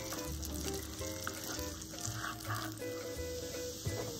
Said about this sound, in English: I'm just gonna throw my meat in there now and cook it till it's browned up